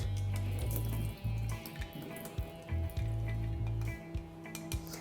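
Soaking water poured off dried apricots in a steady splashing stream, close by, with a low rumble underneath and a few brief clinks.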